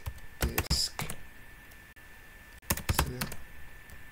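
Key taps on a computer keyboard while entering command-line repair commands on a Windows 10 PC, two short bursts of close, crisp clicks separated by a quiet pause.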